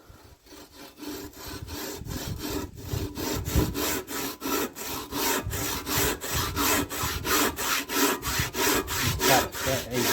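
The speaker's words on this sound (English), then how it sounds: "The easiest way to cut is just you get a really cheap saw like that" A cheap hand saw cuts through timber in a steady run of rhythmic back-and-forth rasping strokes, close and loud, with a brief hesitation before the stroking settles into an even pace.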